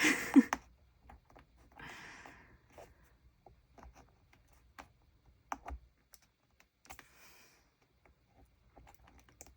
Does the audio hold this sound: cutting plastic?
yes